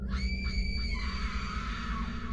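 Distant screams in a horror story scene, a few rising wails with sustained harmonic tones that echo faintly over a steady low background rumble, with no speech.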